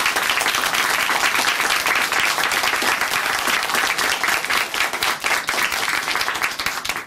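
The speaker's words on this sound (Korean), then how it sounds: "우리 예수님과 함께 더욱더 행복한 삶 사시라고 박수로 응원해드리겠습니다" Applause from a church congregation at a Korean Christian testimony program, a dense, loud burst of clapping sustained throughout and tapering slightly at the end.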